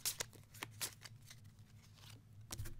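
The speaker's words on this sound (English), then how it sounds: "So here's the 6 cards, so let's shuffle them up." A small deck of six playing cards is shuffled by hand during a tabletop card game, giving a few quick, quiet riffling and snapping bursts spread across a short stretch with no talking.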